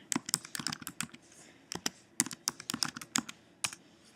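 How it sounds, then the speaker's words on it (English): Quiet, close keystrokes on a computer keyboard as a username and password are entered at a login page, a quick irregular patter of clicks with brief gaps between bursts. "Put your username and password in, click enter."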